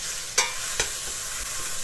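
Garlic frying in olive oil or ghee for a Syrian coastal fish dish, a steady close sizzle broken by two sharp scraping strokes.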